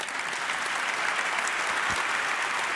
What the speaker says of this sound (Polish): Brawa wielkie, naprawdę.